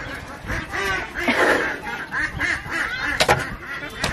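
Several ducks quack in loud, overlapping bursts nearby, a busy chorus of honking calls with no speech.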